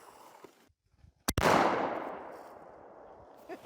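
A big gun fires once at a bulletproof jet windshield. The shot is a single sharp, loud blast whose roar rings out and decays over a couple of seconds, with quiet before it.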